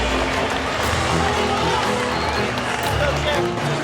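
Crowd noise at a wrestling match as New Jersey native Jordan Burroughs comes out, a steady murmuring roar with cheering, continuous and moderately loud throughout.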